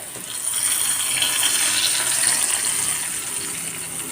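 A steady hissing, sizzling pour of hot oil tempering into chickpea curry, loud and continuous for several seconds with no speech.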